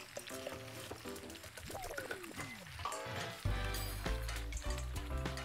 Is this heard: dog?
no